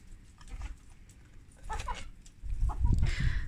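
Chickens cluck nearby in a backyard coop, soft scattered clucks at first that grow busier and louder toward the end, with no talking over them.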